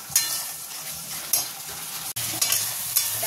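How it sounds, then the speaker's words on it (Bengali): Turmeric and chilli powder masala sautés in hot oil, a steady low sizzle broken by scraping stirs of a spoon against the pan, fairly close and with no talk. "এবার মশলাটাকে বেশ ভালো করে কষিয়ে নিতে হবে। যতক্ষণ না তেল ছাড়বে ততক্ষণ"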